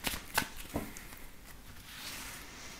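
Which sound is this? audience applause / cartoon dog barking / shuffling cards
shuffling cards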